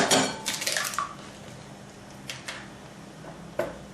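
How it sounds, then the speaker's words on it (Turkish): An egg is cracked for rice börek dough, heard as a few short, sharp taps and clicks with light kitchen clatter at close range, with quiet pauses between them. "Bir adet yumurtamız var demiştik. Önce onu kırıyoruz."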